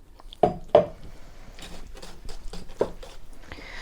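Spoon stirring ground almonds and lemon pulp into a cake mixture in a bowl, with a few sharp clinks against the bowl and soft scraping between them.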